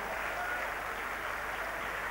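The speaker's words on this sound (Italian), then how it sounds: "Facciamo un applauso a Gordon Mitchell" Faint, steady applause from a crowd greeting an American film actor who is guest of honour at a 1989 event, a dense patter that is continuous through the short stretch.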